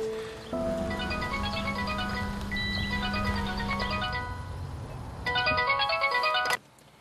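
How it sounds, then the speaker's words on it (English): A phone rings with a bright electronic melodic ringtone, repeating its tune steadily for several seconds, then pausing briefly before a louder burst and cutting off abruptly. "You better answer this phone, Naomi, or so help me."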